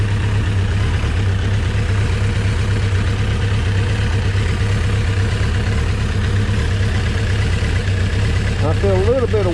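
A Kawasaki 1000 Concours motorcycle engine idles steadily while warming up, a constant low, even drone that stays level throughout, close by, with a brief faint tonal chirp near the end.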